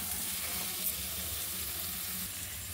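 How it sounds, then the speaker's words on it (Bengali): Fried potatoes sautéing in a pan for a Bengali hilsa and potato curry, a steady close sizzle running throughout with a soft underlying bubbling and no talk. "এবার ভেজে রাখা আলুটা তুলে দিচ্ছি। ভালো করে কষিয়ে নেব।"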